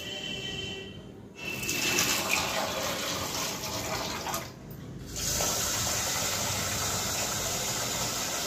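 Rice- and dal-washing water poured out onto a tree outdoors, a steady broadband splashing and rushing that pauses briefly twice, with a low engine-like hum underneath and no talk.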